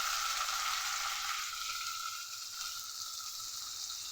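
Carrot and capsicum frying in a pan, a steady bright sizzle with soft crackling, close and constant, easing slightly partway through, no voices.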